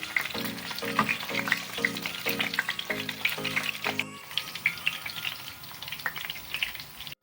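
Eggplant pieces sizzling in hot oil in a pan for a Tamil ennai kathirikai kulambu, with a steady loud crackle and a run of rhythmic scraping stirs near the start before the frying settles into an even hiss.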